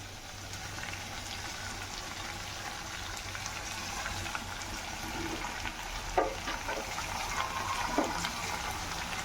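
Tomatoes and vegetables cook in a little oil in a covered pan with no water added, giving a soft, steady sizzle throughout with a couple of brief faint clinks.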